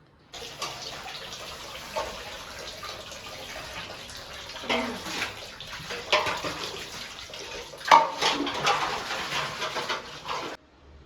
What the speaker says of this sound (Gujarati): તો ચલો વાસણ ઘસી નાખ્યા છે